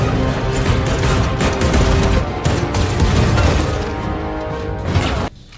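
Rapid gunfire from the action film Gunpowder Milkshake: dense, sustained bursts of shots and crashing impacts, loud and continuous for about five seconds before cutting off abruptly.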